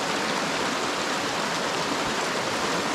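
Steady broadband rush of water flowing across the broad spring-fed water field at Cascade Springs, continuous and even with no pauses.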